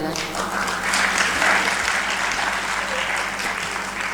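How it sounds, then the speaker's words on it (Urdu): Steady, loud audience clapping at an awards ceremony in Pakistan, a continuous dense round of applause lasting several seconds with faint murmuring beneath. "میں آپ سب سے ریکویسٹ کروں گا کہ آپ سیبا اور بلال بھائی کے لیے بہت ساری تالیاں بجائیں"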